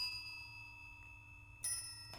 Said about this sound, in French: Donc là c'est des espèces de cloches, ici des bips.